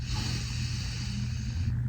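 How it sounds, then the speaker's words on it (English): A slow, steady deep inhalation through the nose during a belly breathing exercise, heard as soft, continuous airy breath noise close to the microphone. "You are gonna take a nice belly breath, breathing all the air into the hand on the belly."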